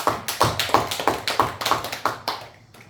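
Temple listeners at a Chilseok dharma talk clap together in an even, rhythmic beat of about nine sharp, close claps, then trail off into quiet.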